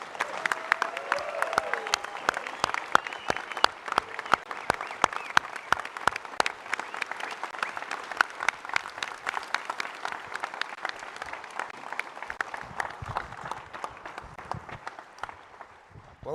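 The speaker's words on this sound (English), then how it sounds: "Can you get a round of applause for my daddy?" Audience at a general session of the 2025 NSA Annual Conference claps steadily for a long stretch, with individual sharp claps clearly separated and the sound staying moderately loud before tapering slightly at the end.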